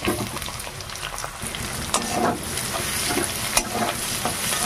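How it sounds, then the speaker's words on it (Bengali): Crushed garlic and onions frying in hot oil for a pointed gourd and potato dish, a continuous close crackling sizzle with scattered pops and stirring sounds, no voices. "তেলে দিয়ে দেবো রসুন, থেতো করে রাখা রসুন। তারপর দিয়ে দেবো পেঁয়াজগুলো।"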